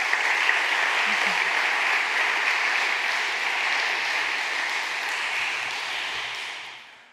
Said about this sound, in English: Everyone's applauding.